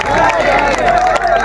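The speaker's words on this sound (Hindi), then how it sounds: "जोरदार तालियां होनी चाहिए" Audience at a Hindi-Urdu poetry recital breaks into loud, dense applause and crowd noise, a close, continuous roar of clapping and voices.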